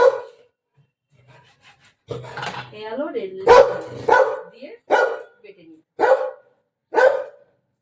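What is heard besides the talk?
pet dog barking at home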